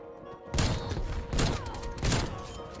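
Pistol fire in the video game Black Ops Cold War comes in three loud bursts of rapid shots spaced about a second apart, over a steady background of game noise.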